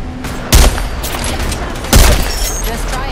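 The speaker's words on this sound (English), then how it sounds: "Opening fire on our prey." Two sharp bursts of gunfire ring out in an Apex Legends match, each a loud cluster of shots over a steady bed of game ambience, spaced about a second and a half apart.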